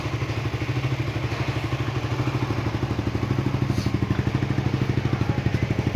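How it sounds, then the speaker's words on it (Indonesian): A motorcycle engine runs at a steady, even idle close by, its rapid regular pulsing continuing smoothly throughout. "Terus untuk suara mesin cukup halus juga"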